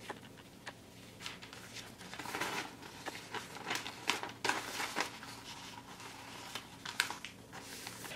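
Two pieces of tulle are stacked and folded in half, giving soft, close crinkly rustles with scattered small clicks and taps in an otherwise quiet room.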